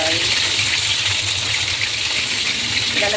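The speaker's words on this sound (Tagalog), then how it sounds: "Kumukulo na siya guys." Continuous bubbling and hissing of corn soup boiling vigorously in a pot, close and steady throughout, with no talking.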